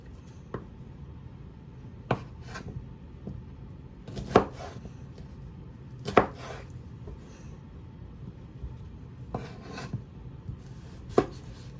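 Raw mango being cut with a knife, a series of separate chopping strikes and scraping cuts at an uneven pace, close and fairly quiet.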